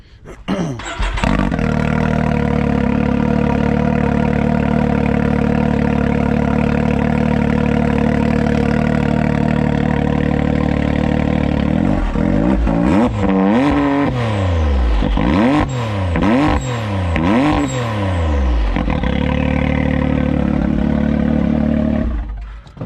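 A Can-Am X3 RC turbo RR engine idles loud and close, then revs repeatedly in rising and falling sweeps with exhaust roar and blow-off valve hiss before settling back to idle.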